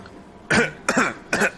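Three loud, harsh coughs close to the listener, spaced about half a second apart, with no talking.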